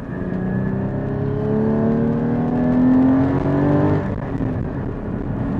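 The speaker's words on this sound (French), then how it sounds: "on entend la boîte travailler derrière nous, ce qui apporte un vrai côté mécanique et authentique" Porsche GT4 engine and gearbox heard from inside the car while driving, a steady loud mechanical drone with rising harmonic whine that climbs as the car accelerates, then eases slightly near the end.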